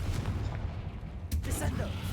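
Spell blasts from the Hogwarts Legacy video game, cast as Bombarda and Confringo, produce booming, gunfire-like bursts. A sharp blast lands around the middle, over steady background game noise.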